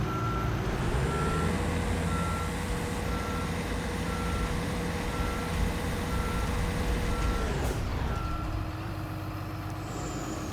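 Truck reversing alarm in the Construction Simulator 22 video game: a steady, evenly spaced series of loud beeps over a continuous diesel engine drone. Near the end the engine note and beeping shift.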